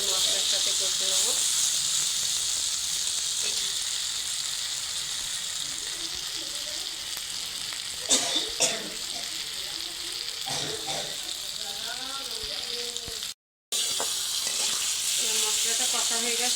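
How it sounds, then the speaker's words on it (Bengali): Potatoes sauté with spices in hot oil, giving a continuous loud sizzle and hiss with brief clatters of stirring partway through and a short dropout near the end. "আলুটা ভালো করে মশলার সাথে কষে নেবো।"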